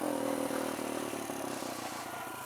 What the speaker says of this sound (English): It'll be fun to ride this bike